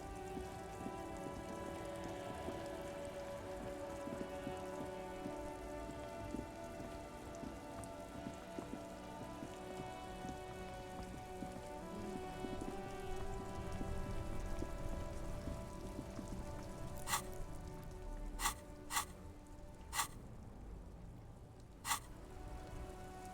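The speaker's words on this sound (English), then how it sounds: "Stuck in the rain in a traffic jam, man." Steady rain patters on surfaces in the world of the video game Disco Elysium, a dense continuous wash with a low ambient drone beneath and a few sharp clicks near the end, no voices.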